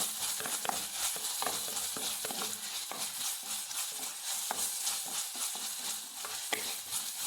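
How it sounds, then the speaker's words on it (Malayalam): Crushed chillies and onions are sautéed in a pan for a Kerala-style onion rice, with a gentle sizzle under repeated close scraping strokes of a stirring spoon, fairly quiet throughout. "നല്ലോണം വഴറ്റിയെടുക്കാം"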